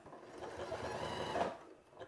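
A Janome sewing machine runs in a steady, close mechanical whir for about a second and a half, then slows and fades out.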